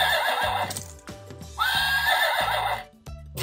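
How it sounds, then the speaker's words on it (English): Whinnying neigh from a toy horse puzzle piece, a recorded electronic horse call played loud and close in a few rising and falling bursts, with no talking over it. "Horses like to go neigh, neigh."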